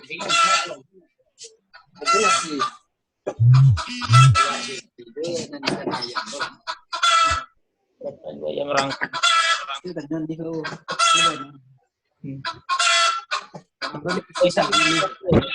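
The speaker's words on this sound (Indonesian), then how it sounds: "Ada suara Ayam yang tuh aman." Chickens cluck a few times, nearby, beneath steady talking that continues throughout.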